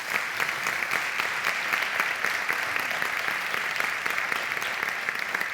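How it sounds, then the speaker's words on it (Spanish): Warm, sustained applause from an audience at a traditional-dress festival in Tiedra, Zamora: dense crisp hand claps, moderately loud and steady, with no speech over them. "por favor, un aplauso para ellos"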